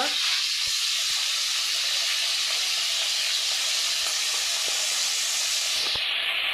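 Bata fish frying on a stove, a continuous loud hissing sizzle that stays steady throughout, no talk.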